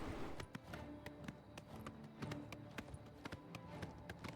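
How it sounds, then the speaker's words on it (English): A horse gallops in Elder Scrolls IV: Oblivion, with rapid, evenly spaced hoofbeats drumming over a rumbling game background at moderate loudness throughout. "Listen to the majestic gallop"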